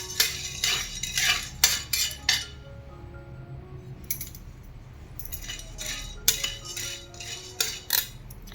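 Metal spoon scraping and clinking against a pan while roasted gram dal is briefly warmed for chakli bhajani, sharp intermittent clinks in irregular clusters, close and fairly loud with no talk.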